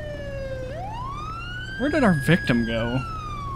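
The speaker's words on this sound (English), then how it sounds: "siren's just gonna be going because it won't shut off" A police car siren in the video game LSPDFR wails steadily, rising in pitch and holding a continuous tone, with someone talking over it partway through.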